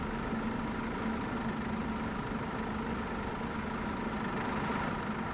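A Scania 121 Touring bus engine in a driving simulator drones steadily at a low idle, a constant, even rumble at moderate loudness with no talking.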